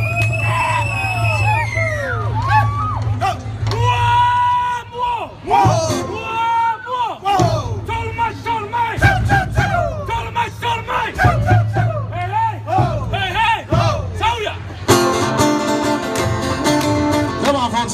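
Crowd at a Samoan faataupati slap dance show at Downtown Disney screams, whoops and shouts loudly and continuously, with battle-cry yells and chanting voices layered over a steady low drum-like rumble and occasional slaps.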